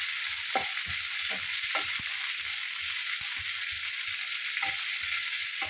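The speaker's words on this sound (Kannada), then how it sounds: "ಬೆಳ್ಳುಳ್ಳಿನೂ ಆ್ಯಡ್ ಮಾಡ್ಕೊಳ್ತೀನಿ ಆ್ಯಂಡ್ ಶುಂಠಿನೂ ಆ್ಯಡ್ ಮಾಡ್ಕೊಳ್ತೀನಿ ಏನಕ್ಕೆ ಚೂರ ಚೂರ ಅಂತ ಇದೆ ಅಂದರೆ ಅದು ರಸ ಬಿದ್ದುಬಿಟ್ಟಿದೆ" Garlic and ginger sizzling in hot oil for a dhaba-style mushroom gravy, a loud, even frying hiss that holds steady throughout, with occasional soft taps and stirs underneath.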